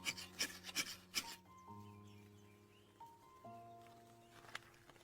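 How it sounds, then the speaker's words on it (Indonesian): A magnesium fire-starter rod is scraped at an outdoor campsite: several quick, rasping strokes close by in the first second, followed by quieter, steadier background sound. No one speaks. "Mulai menggosok batang magnesium."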